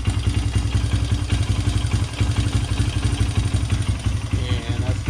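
A cheap, chokeless used dirt bike engine idles close by with a steady, fast putter and a rattly, clattering edge, running evenly without any revving.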